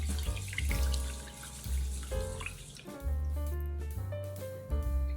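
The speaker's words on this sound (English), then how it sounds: "Rinse the rice until the water runs clear." Rice rinsed under running water in a kitchen sink, the tap flowing steadily with sloshing and squishing as the grains are stirred, loud and close throughout.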